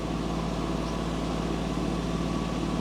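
A compact tractor runs an Orsi hedge cutter attachment, a loud, steady engine drone with a constant low rumble and no pauses or voices.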